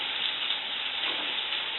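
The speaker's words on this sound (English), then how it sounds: "I'm going to go ahead and do my onions real quick and get them in the skillet" Onions frying in a skillet give a steady, close, even sizzle with a dense crackle that holds at one level throughout, with no voices over it.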